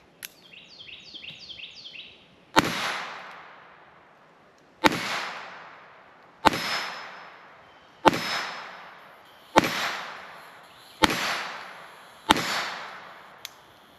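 Seven sharp pistol shots fired with CCI 22 Short 29-grain copper-plated lead round-nose rounds crack out at irregular intervals, each followed by a brief decaying echo, preceded by faint mechanical clicking.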